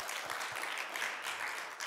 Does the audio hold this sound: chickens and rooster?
no